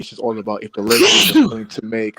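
One sharp sneeze bursts out in the middle of a man's speech during a basketball talk show, loud and close, with talk resuming right after.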